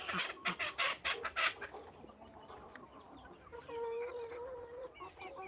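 Pure desi hens on a farm cluck near the microphone in quick bursts, then give a longer drawn-out call, with no talking.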